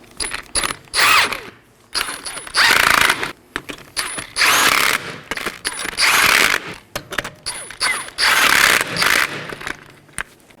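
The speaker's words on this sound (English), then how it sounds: "I'm going to tighten these in a crisscross pattern." A ratchet clicks in quick bursts, snugging the wheel lug nuts on a Chevrolet Equinox during a front brake job, with short loud runs of metallic ratcheting separated by brief pauses, close up and with no talk.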